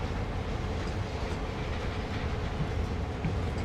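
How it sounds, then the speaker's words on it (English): Empty hopper wagons clank and rattle along the rails behind a Union Pacific GP38-2 in Train Sim World, a continuous rumbling, clattering roll with no voices. "The hoppers, perhaps, clanking around because they're empty."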